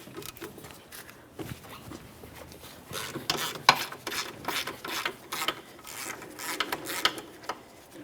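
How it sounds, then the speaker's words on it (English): Ratchet backing out a 14mm rear brake caliper mounting bolt on a Jeep Patriot, close and clear, with repeated bursts of rapid clicking and rasping pawl sounds in an irregular rhythm over several seconds. "We'll just go ahead and remove our first 14mm mounting bolt."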